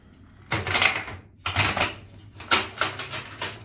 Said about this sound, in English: Okay, I'm going to shuffle.